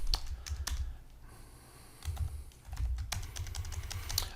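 Irregular clicking of keys on a computer keyboard, close and fairly quiet, with bursts of keystrokes separated by short pauses over a low background hum; no one speaks.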